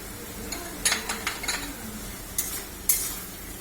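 Mutton with cumin and turmeric powder is stirred in a pan: a low sizzle sits under a few scattered scrapes and metallic clinks of the spoon against the pan.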